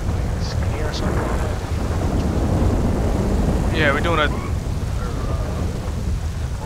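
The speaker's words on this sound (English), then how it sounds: "tell me what you guys think about this rain effect" Steady rain and rumbling thunder from a storm effect in the video game GTA V form a dense, continuous wash throughout, while someone talks briefly over it.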